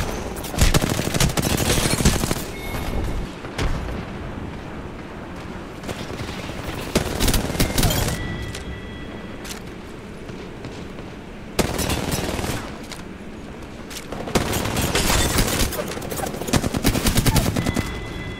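Dense automatic gunfire from Apex Legends rattles in long, loud, close bursts with brief lulls, continuing almost throughout.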